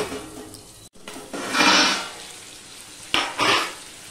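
Potatoes fry and sizzle in a pan while being stirred, with a brief lid clatter and bursts of loud hissing that swell and fade, close and without talk.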